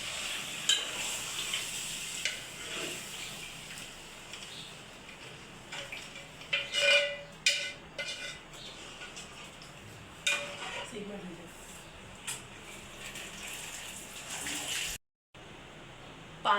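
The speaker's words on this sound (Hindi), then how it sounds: "मैं डालूँ इसमें पानी।" Water is poured into a cooking pot on a home stove, a soft running splash mixed with clinks of cookware and faint sizzling, steady for most of the stretch before a brief cut to silence.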